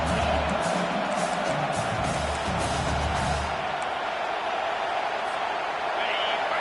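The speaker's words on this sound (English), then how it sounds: "Decibels rising as the crowd gets behind this defense on third down." A stadium crowd at a Michigan versus Oklahoma college football game roars steadily on a third down, a dense, sustained wash of cheering that stays loud throughout.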